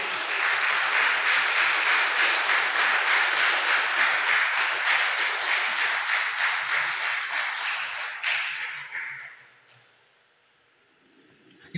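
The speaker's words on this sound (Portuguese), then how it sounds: "Você pode dar um aplauso ao Senhor por isso?" A church congregation applauds together in sustained, dense clapping that fills the space for about nine seconds, then fades away into near silence.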